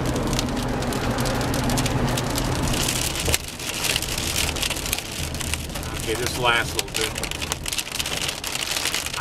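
Steady rain patters loudly on a surface, a dense continuous hiss with dripping; a person speaks briefly under it.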